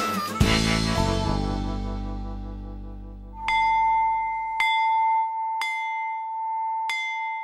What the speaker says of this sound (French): Le son de la cloche dans le monde entier signifie récréation.